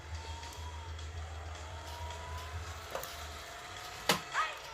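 A small Mario Kart Live Home Circuit remote-control kart drives around a cramped indoor space, giving a faint, steady low motor whir with a few soft bumps and clicks near the end.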